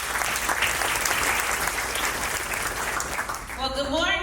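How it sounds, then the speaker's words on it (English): Audience at a kickoff event giving a round of applause, loud continuous clapping filling the room, and a voice starts speaking over it at the very end. "Give them a round of applause."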